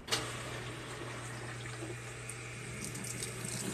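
A washing machine fills with water during its rinse cycle, giving a steady rushing, faucet-like flow with a low constant hum underneath, close and continuous throughout.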